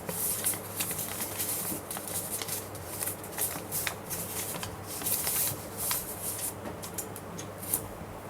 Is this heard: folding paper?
yes